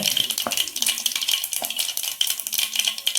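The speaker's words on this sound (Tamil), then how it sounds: "கடுகு பொரிஞ்சிட்ருக்கு." Mustard seeds popping and spluttering in hot oil in a pan while cooking a greens and lentil stir-fry, a dense run of sharp crackles and pops with faint stirring, no voices.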